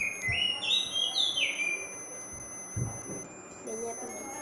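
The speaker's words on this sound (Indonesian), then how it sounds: "di situ ada burung, jadi suara burung itu berisik banget" Small birds chirp nearby indoors, a few bright tweets and trills in the first seconds over a faint steady electronic whine, with people talking intermittently.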